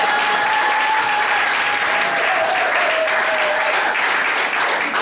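Steady, loud applause from wedding guests rolls on unbroken, a dense crowd of clapping hands with faint voices calling out beneath it.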